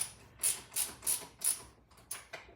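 Repeated ratcheting clicks from parts being tightened on a Stihl FS91R trimmer with a power sweep attachment, several short bursts in an uneven rhythm, close and fairly quiet with no talk.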